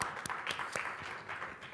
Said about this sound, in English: Please give our candidates a big round of applause.